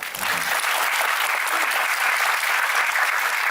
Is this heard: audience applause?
yes